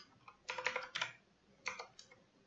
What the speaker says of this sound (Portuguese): Vou estar digitando o comando escreva.